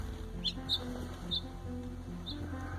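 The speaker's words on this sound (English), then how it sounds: "A sparrow froze to a pipe and appeared doomed to be stuck forever" A sparrow frozen to a pipe in winter gives a few thin, high chirps spaced apart over a low steady background hum.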